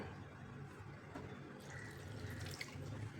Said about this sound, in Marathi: अजून थोडंसं पाणी घालूया